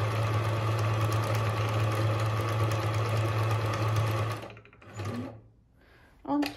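A Pfaff Hobby 741 sewing machine stitches a buttonhole with a steady, loud mechanical whir that stops abruptly, followed by two short bursts of machine movement.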